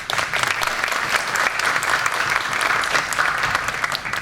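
Applause from a thinned-out audience at the end of a lecture on ICMS tax filing, steady close clapping lasting the whole stretch without a break, no voices.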